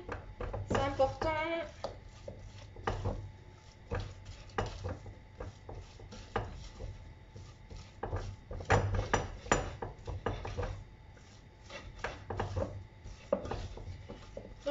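Gluten-free, lactose-free choux pastry batter beaten by hand in a pot, a dense run of irregular knocking and scraping strokes, loud and close, with a voice briefly heard near the start.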